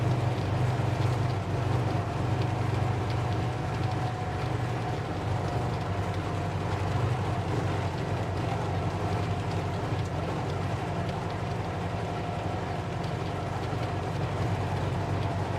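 A boat engine running hot, a loud, continuous low drone with a steady mechanical hum close by, no voices heard.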